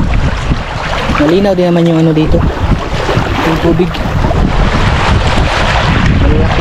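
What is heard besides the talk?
strong wind at sea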